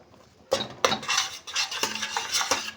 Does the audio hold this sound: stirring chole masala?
yes